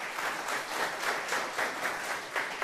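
A crowd at a charity fundraising campaign claps in a fairly faint, steady round of applause that swells and dips in soft waves.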